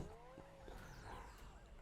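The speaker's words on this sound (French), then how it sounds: "C'est vraiment la voiture qui se retourne juste en se transformant en fait." A car skids with squealing tyres and flips over as it transforms into a robot in a Transformers: Rise of the Beasts trailer, the tyre whine sliding over a loud, busy mix of engine rumble and impacts.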